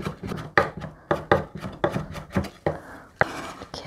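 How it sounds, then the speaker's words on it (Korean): Garlic is minced with a knife on a cutting board for winter dongchimi, a run of sharp, rhythmic chopping knocks in quick bursts, close and clear with no talk. "마늘을 이렇게 칼로 다져서 넣으면은"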